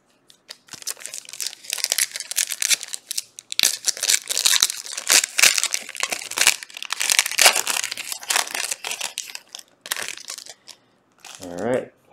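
Foil wrappers of Court Kings blaster box card packs being torn and crinkled open, a busy run of loud close crackling and ripping with short pauses, and a brief voice near the end.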